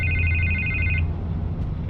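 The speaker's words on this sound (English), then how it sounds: "I can't get the phone to stop ringing." Telephone ringing in Batman: The Telltale Series, a loud electronic ring tone that sounds for about a second, pauses, then starts again over a low background hum.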